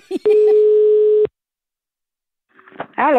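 A telephone line tone during a prank call plays as one steady beep lasting about a second, followed by silence before a voice starts speaking at the end.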